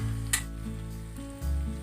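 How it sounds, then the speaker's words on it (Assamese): Onion frying with ginger-garlic paste and cumin paste over a low gas flame for an Assamese banana dish, a soft steady sizzle with a brief sharper crackle near the start and a low hum underneath. "এই মছলাখিনি মই গেছত একদম ল' ফ্লেমত ভাজিলোঁ"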